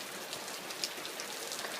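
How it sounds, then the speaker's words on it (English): Steady rain pours down outdoors, a continuous dense hiss of drops striking surfaces, with a few slightly louder individual splashes standing out near the listener throughout. "Yeah, it's raining."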